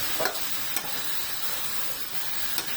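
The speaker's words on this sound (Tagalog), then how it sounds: "So yan, ginisa ko na rin yung itong gulay." Vegetables, including green chilies, sauté in a pan for a Filipino squash dish, producing a constant, fairly loud frying hiss with a few soft stirring scrapes. No one speaks.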